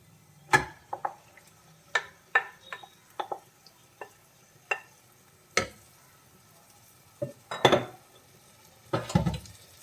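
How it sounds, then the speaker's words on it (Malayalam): Chicken already marinated for restaurant-style chicken masala goes into a hot pan and is stirred, with scattered spatula scrapes and clanks against the pan at irregular intervals over a low steady sizzle. "ഇനി നമ്മൾ ഓൾറെഡി മാരിനേറ്റ് വെച്ചിട്ടുള്ള ചിക്കൻ ഇതിലേക്ക് ചേർത്ത് കൊടുക്കാം"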